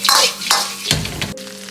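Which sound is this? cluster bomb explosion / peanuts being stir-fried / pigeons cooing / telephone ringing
peanuts being stir-fried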